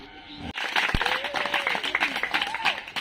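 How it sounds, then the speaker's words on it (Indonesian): Classroom applause for a pupil after a book reading, brisk and close, with children's voices calling out over the clapping throughout. "Tepuk tangan buat Krisna."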